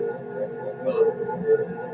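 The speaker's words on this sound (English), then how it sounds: "That's the sound of the thrusters." Underwater vehicle thrusters whir in a steady, faint low hum with wavering tones at a deep-sea coral site used for seabed coring.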